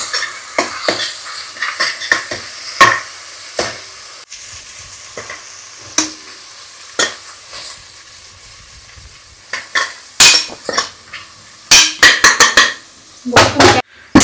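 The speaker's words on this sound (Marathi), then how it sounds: "टोमॅटो मी मस्तपैकी फ्राय करून घेतोय" Tomatoes frying in a pan for idli sambar, with intermittent sharp metal spatula clanks and scrapes against the pan over a soft sizzle, close by.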